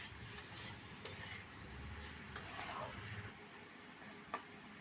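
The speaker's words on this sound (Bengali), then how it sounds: "এবার এটাকে নাড়াচাড়া করে ঢাকা দিয়ে দেব।" Pumpkin curry stirred in a pot with salt and turmeric, soft scraping of a spoon over a low sizzle, a few light clinks against the pot, faint and close.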